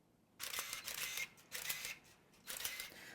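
Minolta Maxxum 7000 camera autofocus hunting for focus, three separate bursts of close, whirring motor buzz with short quiet gaps between them.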